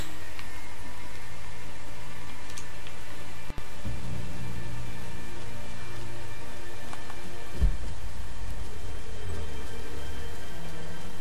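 Rain falling in the video game Rise of the Tomb Raider, a steady hiss of rainfall under a low hum, with one sharp click partway through and a faint low thump later.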